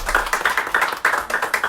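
Rhythmic group clapping from an audience at a prayer meeting, with steady loud claps at a quick even pace running through the short stretch, no voices over it.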